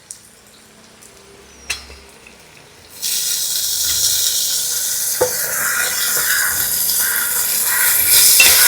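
Crushed ginger, garlic, green chili and tomato hit hot coconut oil with a sudden loud sizzle that stays bright and hissing, preceded by a few quiet clinks and faint kitchen sounds.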